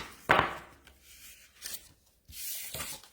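A bone folder burnishing a folded score line on cardstock for a double Z-fold card, a few close, dry rubbing strokes in short bursts with quiet pauses between.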